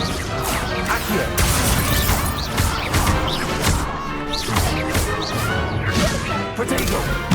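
Spells cast during a dueling practice in Hogwarts Legacy crack and whoosh in rapid succession, sharp smashing impacts and swishes repeating loudly and closely throughout.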